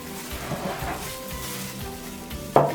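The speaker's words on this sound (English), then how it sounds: "And then we're gonna mix it all together." Sausage filling with mixed herbs is stirred in a hot pan, a continuous low sizzle with soft scraping and shuffling, ending in a sharper clatter of utensil against pan.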